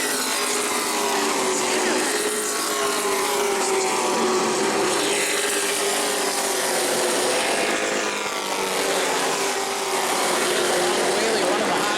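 Stock cars in a Sportsman 25 race at New Smyrna roar continuously around the track, engine drone rising and falling as the pack passes, loud and steady for the whole stretch with a race commentator talking over it.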